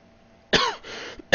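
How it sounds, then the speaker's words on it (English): Several harsh coughs from a man, close and loud: a burst of rough coughing followed by a slightly softer second one, then another sharp cough starting at the end, with a quiet room in between. "I'm going to try my best not to cough as much"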